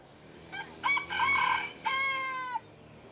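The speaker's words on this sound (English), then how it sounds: "This rooster over here is being very vocal." A rooster at the gate of a Thai royal temple crows loudly nearby. Two short clucks lead into a long drawn-out cock-a-doodle-doo, alone with no talking over it.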